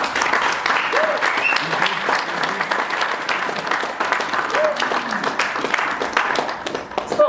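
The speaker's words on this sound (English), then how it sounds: "just give a round of applause?" An audience at a CEO fireside chat gives a round of applause. The clapping is sustained and fairly loud, with many hands and no pause, and voices and cheering can be heard within it.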